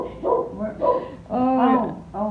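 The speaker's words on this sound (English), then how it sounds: "that sounds like a Shotzi bark" A dog barks a few times in short, bright yips and bow-wows, fairly close and moderately loud, with a voice heard alongside.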